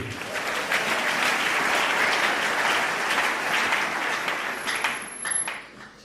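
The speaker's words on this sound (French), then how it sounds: "Acclamons Jésus" Church congregation applauding during a family worship service, a dense steady burst of many hands clapping that fades out near the end, with voices faintly mixed in.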